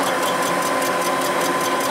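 A machine cutter with a new bit bores a 1932 Ford flathead race block at a slow 280 RPM during crack repair, giving a steady, continuous mechanical whir with a faint regular pulsing rattle throughout.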